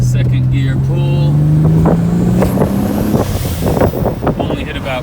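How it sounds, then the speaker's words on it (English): A Nissan Z31 accelerates hard through a second-gear pull on the street, its engine note rising steadily in pitch for about three seconds before easing off, with wind rush and road noise loud throughout. "second gear pull"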